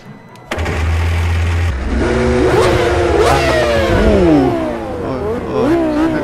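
A V10 Formula 1 car in a sim racing game fires up with a starter whine and catches, then revs hard in rising and falling sweeps near the limiter, loud and close throughout.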